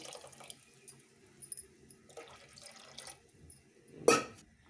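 Water is poured from a glass into a tamarind brinjal curry, making a brief, loud splash near the end after quiet, faint kitchen clatter.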